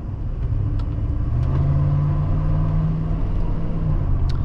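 A 1994 Dodge RAM 1500 Laramie SLT pickup rolls along at low speed over speed bumps, giving a steady, loud low engine and road rumble inside the cab with a faint knock or two and no talk.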